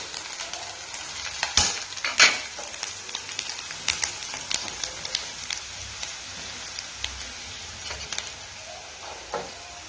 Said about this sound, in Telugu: అల్లం వెల్లుల్లి పేస్ట్ లో కాస్త పచ్చివాసన వస్తుంది కదా, ఆ పచ్చివాసన పోయే వరకు వేయించాలి